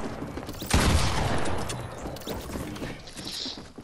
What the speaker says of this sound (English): pump shotgun.